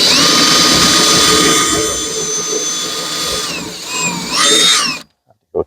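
Power drill with a pilot bit boring a hole, whining loudly and steadily, then bogging and revving in a few bursts before cutting off abruptly, with a couple of short final clicks.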